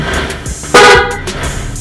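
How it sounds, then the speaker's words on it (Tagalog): A sharp, loud motorcycle horn blast honks once, from an aftermarket PIAA rapid horn, with faint quieter toots and traffic hum around it. "So meron din yung rapid horn."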